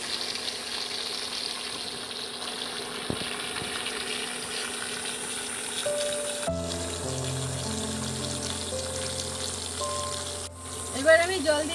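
Water poured into a pan of sizzling chicken curry, with steady frying hiss at first, then a sudden burst of louder bubbling and spitting as the water hits the hot oil, close and continuous.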